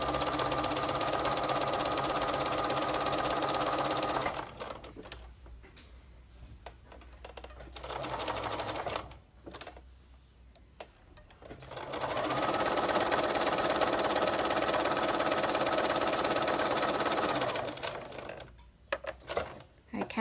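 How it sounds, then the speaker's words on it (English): Sewing machine stitching a welt pocket in knit fabric, two long runs of fast steady whirring stitches separated by quiet pauses with light handling sounds and brief clicks, close and loud. "start in a corner, sew to the next corner"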